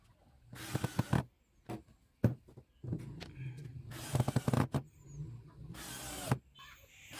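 Screws driven through steel corner brackets into a simple low wooden study table make a series of close whirring bursts with rattling clicks, separated by short quiet gaps.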